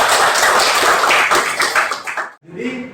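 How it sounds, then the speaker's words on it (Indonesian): Students in a high school classroom clap for a classmate in a dense, loud burst of applause that stops abruptly, followed by a brief voice. "tepuk tangan untuk Adam"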